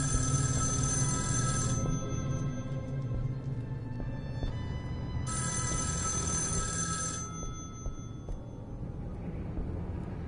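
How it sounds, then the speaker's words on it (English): A hotel room telephone rings in two long electronic bursts separated by a pause, loud and close over a low steady background hum. "The phone rings."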